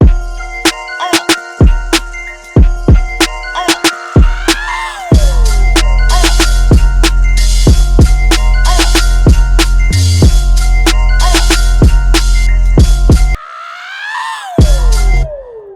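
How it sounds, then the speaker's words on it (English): A producer's hype scream sound effect plays within a loud beat, with punchy repeated hits and sharp transients, tonal sweeping squeals, and brief drop-outs between sections. "that Ojizz scream sounds like this"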